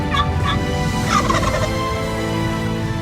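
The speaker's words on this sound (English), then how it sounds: "The wild turkey." A wild turkey gobbles several times in quick rattling bursts, clear and fairly close, over a steady background hum.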